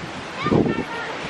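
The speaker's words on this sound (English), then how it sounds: "as y'all can see, the waves are coming high" Ocean surf rolls in at a Hawaii beach with high waves, a brief breaking wash swelling and fading over steady wind buffeting the microphone; no speech is heard.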